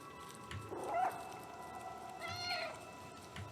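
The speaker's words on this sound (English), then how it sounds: "you can meow in this game and you hear this little echo going on" A cat in the video game Stray meows, two faint short meows with a slight echo over low steady background noise, no voices.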